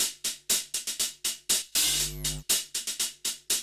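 A busy hi-hat pattern with shuffled, uneven hits plays close and bright, broken midway by a longer open hat over a deep bass tone.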